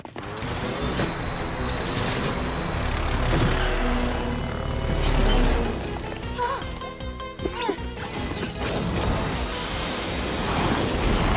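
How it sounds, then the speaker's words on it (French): Cartoon clown car from Totally Spies driving along, heard as a busy mix of engine noise, rattling mechanical clatter and brake-like hisses, continuous and loud with music and effects layered over it. "Suivons cette voiture de clown."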